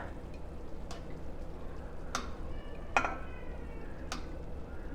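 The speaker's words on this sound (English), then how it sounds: "So I am going to take those shrimp and pop them in here." Shrimp go into a pan of cooking vegetables for a simple Pad Thai, giving a soft, steady sizzle under several sharp metallic clinks of a utensil scraping and stirring against the pan.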